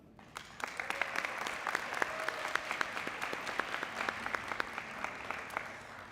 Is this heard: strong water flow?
no